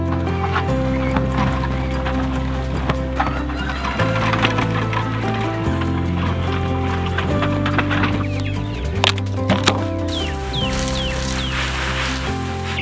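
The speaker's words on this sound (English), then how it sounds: "We have 40 Cornish cross chickens in there, 1 goose." Cornish cross chickens cluck and squawk repeatedly close by amid a busy barnyard, with a steady tonal hum running underneath and scattered sharper calls.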